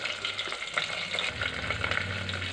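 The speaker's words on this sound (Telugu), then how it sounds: "నాలుగు రెమ్ల కరివేపాకు వేసుకోవాలి" Curry leaves crackle in a tempering of oil with green and dried red chillies, a soft, fairly quiet sizzle with light stirring scrapes throughout and a low hum underneath; nobody talks.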